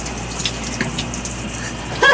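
Shower water running inside a small Aliner camping trailer hooked up to water, a steady broadband hiss and spray at constant loudness throughout, close by, with no talking over it.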